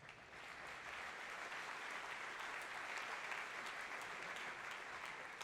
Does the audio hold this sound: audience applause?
yes